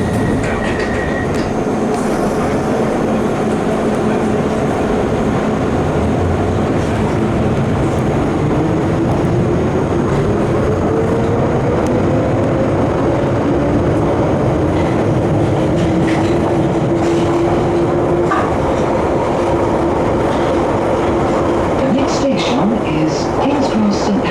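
London Underground Piccadilly line train running toward Cockfosters, a loud continuous rumble of wheels and motor with a rising whine, heard from inside the carriage with faint announcements and voices underneath.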